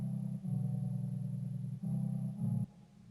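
A low, sustained bass line plays quietly in long held notes, changing pitch a few times before cutting off, with no voices.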